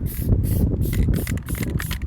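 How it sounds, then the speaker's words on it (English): Spray paint can spraying in quick repeated hissing bursts, close and loud, each short blast separated by brief gaps. "Every time John Hancock pushes on the knob of his spray can, he doesn't just release paint."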